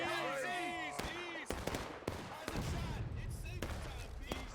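Pistol shots crack in a Civil War battle video game, with several sharp, loud reports at irregular intervals over continuous battlefield rumble and distant musket fire. A voice speaks briefly near the start.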